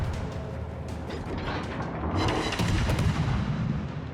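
Battleship guns fire in a naval warfare video game, a rapid series of heavy booms and mechanical clatter layered over a dense, continuous rumble.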